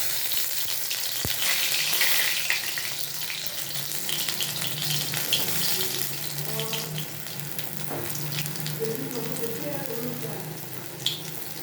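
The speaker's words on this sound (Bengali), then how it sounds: "ব্যাটারের মধ্যে ডুবিয়ে তেলের মধ্যে ছেড়ে দেবো।" Battered jute leaf fritters sizzle in hot oil, a continuous crackling hiss with occasional pops and faint clinks, moderately quiet and heard without talk.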